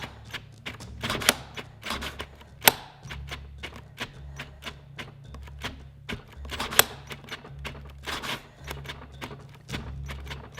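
A cordless Ryobi drill's trigger clicks over and over in an irregular, fast rhythm, with sharp close taps over a low motor hum that starts and stops.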